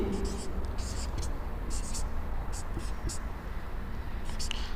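Chalk or marker scratches across a board during a chemistry lesson on metals and nonmetals, coming in short bursts of strokes over a constant roomy background hum with faint voice.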